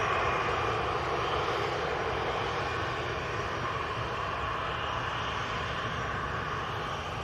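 Steady broadband jet engine roar from an EasyJet airliner during pushback at Manchester Airport, a continuous even drone heard from a distance with no talk.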